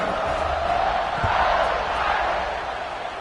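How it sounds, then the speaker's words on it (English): A stadium crowd roars steadily at a college football kickoff between Mississippi State and Notre Dame, a dense, sustained wash of cheering and whooping that swells slightly and then eases off. "this crowd now ready to get behind them"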